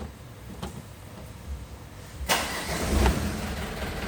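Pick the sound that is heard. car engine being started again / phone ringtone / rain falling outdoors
car engine being started again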